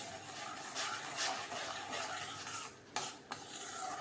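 A spoon stirs tomato dal sweetened with jaggery in a pot for dal dhokli, a soft, steady scraping and swishing with a couple of sharper clinks near the end, no voices.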